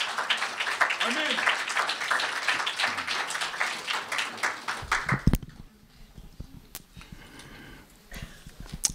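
Church congregation applauding during a worship service, a dense burst of clapping for several seconds that breaks off abruptly, followed by a few scattered claps and a spoken word.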